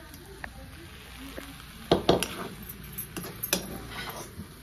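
Cooked potatoes for a potato and egg paratha are moved from the pan onto a plate, with a few close utensil clinks and scrapes over a faint sizzling background.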